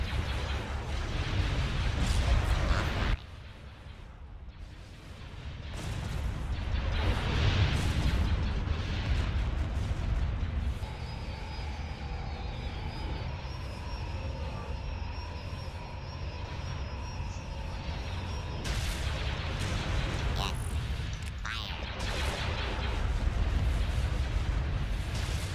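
Laser guns and artillery fire during a battle in the Star Wars Empire at War video game: booming blasts and deep rumbling come in waves over a sustained, droning background.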